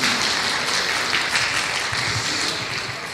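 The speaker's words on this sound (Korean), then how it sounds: "우리 박수로 한번 격려할까요?" A church congregation at a Sunday service gives a short round of applause, many hands clapping in a steady, moderately loud wash that slowly fades toward the end, with no voices over it.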